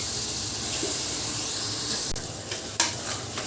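Ripe tomatoes hit a pan of frying garlic in a thick, steady sizzle with faint hiss and steam, joined near the end by a few sharp scraping and stirring clatters of a utensil against the pan.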